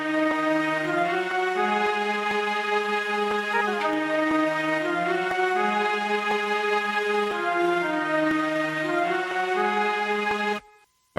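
A layered orchestral sample with a solo flute melody on top, sustained harmonic tones gliding between notes continuously and loudly for about ten seconds, then cutting off abruptly near the end.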